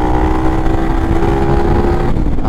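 A motorcycle geared with a 14-tooth front sprocket and a 36-tooth rear sprocket pulls hard under throttle, a loud, close, buzzing engine note with steady harmonics that shifts slightly near the end.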